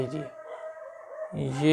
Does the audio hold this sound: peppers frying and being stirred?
no